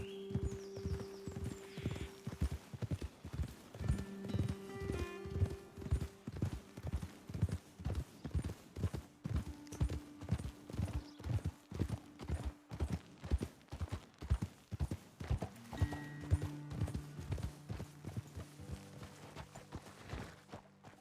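Horses' hooves clip-clop in a steady walking rhythm throughout in Red Dead Redemption 2, close and clear, with occasional whinnies and a soft musical drone beneath.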